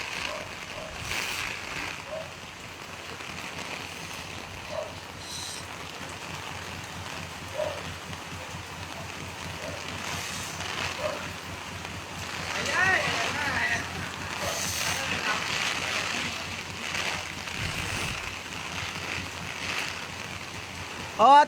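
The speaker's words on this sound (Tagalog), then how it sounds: "Ate Reg, ang lakas ng hangin dito." Strong typhoon wind and rain rush continuously outdoors, with gusts swelling and fading over steady rainfall; a voice speaks briefly over the storm noise.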